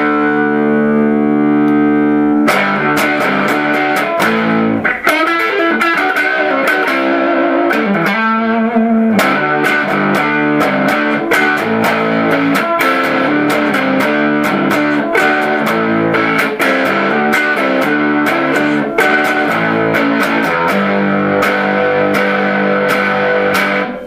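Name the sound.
fuzz distortion tones from Dr. Boogie distortion pedal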